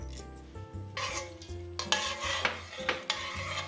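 Marinade being stirred with bay leaves and black peppercorns, a spoon scraping and clinking against the pot in short, quiet strokes, close by with no talk.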